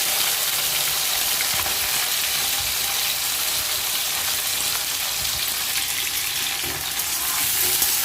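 Cut flat beans and potatoes frying in hot mustard oil in a kadai, a loud, steady, close sizzle with faint stirring noises, no voices.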